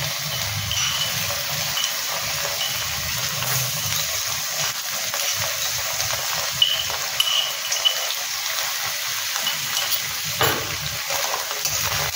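Chopped garlic sizzles steadily in a hot pan, a close, continuous frying hiss with faint occasional crackles and no talking.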